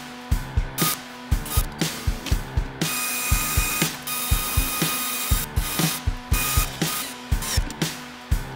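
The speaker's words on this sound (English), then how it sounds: "I'm just cutting the main slot in the base" A saw cuts the main slot through a wooden miter sled base in steady, repeating strokes, each a sharp mechanical burst with short pauses between, fairly close by.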